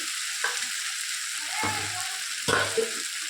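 Fried soybean pieces go into potatoes frying in a pan, a steady hiss of hot oil with a few soft thuds and scrapes as they are stirred in.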